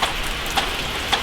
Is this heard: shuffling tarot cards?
no